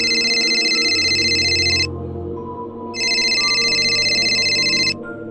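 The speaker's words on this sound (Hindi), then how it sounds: "साहिल का फोन बजा" A phone rings in two long, loud electronic trilling bursts separated by a short pause, with a low background hum beneath.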